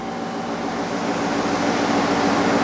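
A chamber vacuum sealer runs a vacuum cycle with a steady, even motor and pump hum that holds close and constant throughout.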